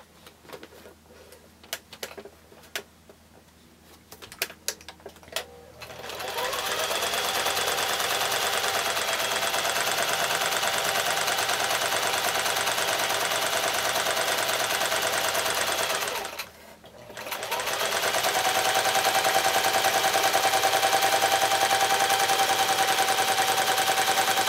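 A home sewing machine with a quarter-inch foot stitching a foundation-pieced quilt block, running in one long steady loud whir near the mic, briefly pausing then resuming, after a few seconds of quieter handling.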